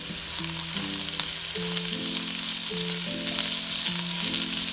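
Shredded cabbage stir-fried over high heat in a hot pan for mixed fried rice, giving a constant loud sizzle and a steady background hum, with a few faint utensil scrapes.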